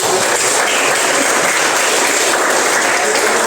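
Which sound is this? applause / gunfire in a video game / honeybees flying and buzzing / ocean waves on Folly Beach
applause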